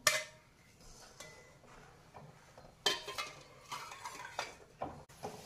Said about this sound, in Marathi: कंटिन्यूस आपण हलवत राहायचं आहे, नाहीतर गुठळी होऊ शकते